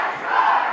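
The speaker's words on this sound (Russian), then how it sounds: "Это люди в форме кричат «Мажоры!»" Uniformed cadets from a Moscow military school, a KVN team, shout their team name in unison, a brief, loud collective chant in a hall.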